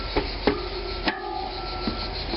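Wrench loosening a bolt while fitting 180 mm brake discs, giving a few sharp clicks and ratcheting knocks spaced irregularly over a faint steady background hum.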